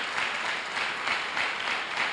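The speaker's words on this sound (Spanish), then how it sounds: "¿Alguien le puede dar un aplauso al Señor por esa bendición de gozarnos los unos y los otros?" A church congregation applauds together, a dense, even wash of many hands clapping that continues without a break for a couple of seconds.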